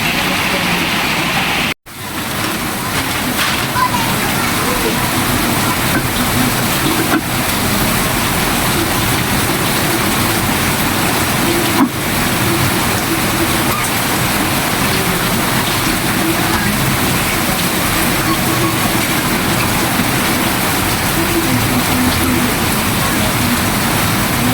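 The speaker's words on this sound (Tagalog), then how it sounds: "Ay, lakas ng ulan." Heavy rain pours steadily and loudly on a roof and surroundings during a downpour with near-flooding, a constant dense hiss broken only by a brief dropout near the start.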